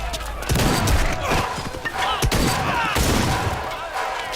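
Loud, dense gunfire from a fight scene in the film Kantara, with sustained blasts and thumping impacts filling the soundtrack, close and continuous, with no clear talking over it.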